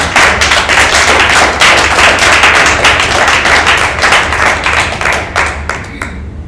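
Loud, close applause from an audience after a conference talk on multi-site versus domain setups, with dense, steady clapping of many hands that thins out and fades near the end.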